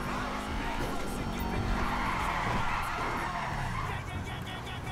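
A car skids and spins in Grand Theft Auto 5, with sustained tire squeal and engine roar that stay loud and continuous throughout. Someone talks over the racing noise.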